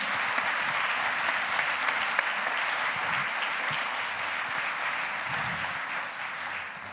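Sustained applause from a conference audience, steady and dense throughout, honouring an improv theatre troupe at a regional inclusion assembly.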